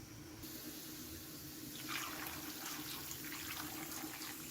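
Water pours into a pot of chopped mixed vegetables being readied for a seven-vegetable South Indian kootu curry, a steady close splashing stream that grows brighter and fuller after the first couple of seconds, with no talking.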